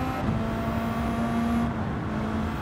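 A car driving in Gran Turismo 7 during a driving tutorial, a steady engine drone with a sustained tone holding at an even level, alone and fairly loud.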